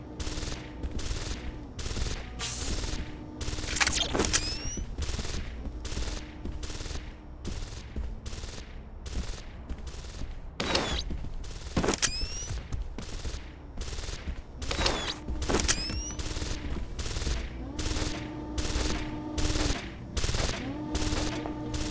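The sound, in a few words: turret gunfire in Deus Ex: Invisible War video game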